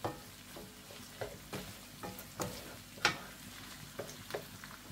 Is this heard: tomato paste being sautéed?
yes